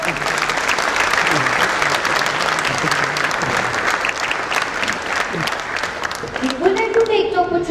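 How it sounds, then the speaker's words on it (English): An audience at a school class presentation gives the parents a big round of applause, a thick sustained clapping that continues strongly throughout, with voices rising briefly near the end. "this definitely calls for a huge round of applause"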